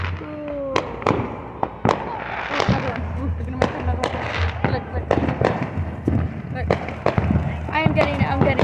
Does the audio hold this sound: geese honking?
no